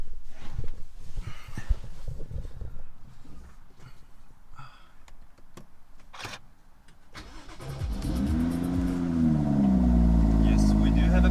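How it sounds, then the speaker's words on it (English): A BMW car's engine cranks and catches, then settles into a steady, rumbling idle that fills the final seconds. Before it, light clicks and handling noises come from inside the car under occasional speech. "We can now start the car."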